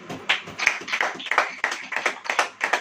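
Church congregation clapping hands during a Hindi Christian sermon, a quick run of about a dozen sharp claps in an uneven, brisk rhythm, fairly close and clear with no talking over them.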